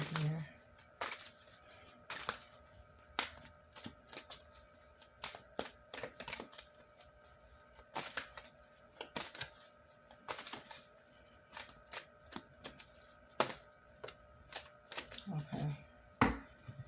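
Tarot cards are shuffled and drawn at close range, giving a quiet run of crisp, irregular taps and flicks.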